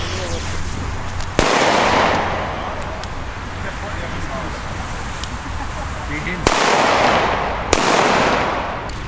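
New Year's Eve firecrackers (Böller) go off outdoors in three loud, sharp bangs, each followed by crackling and a rumbling echo that fades between blasts.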